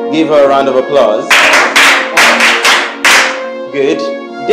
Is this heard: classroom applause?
yes